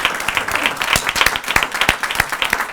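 A loud burst of audience applause at a forum on Spanish cultural heritage, crisp individual claps ringing out close and fast in an uneven, energetic rhythm.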